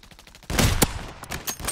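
Rapid bursts of gunfire crack in a Call of Duty Resurgence match, a dense loud volley followed by scattered sharp single shots, close and punchy.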